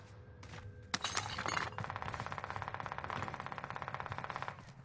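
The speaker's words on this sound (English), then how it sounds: "Heavy fire here. Enemy soldiers nearby." Video game combat in a tournament match: a sharp crack and a shattering burst lead into a long, steady rattle of rapid automatic gunfire, loud and close, with no talking.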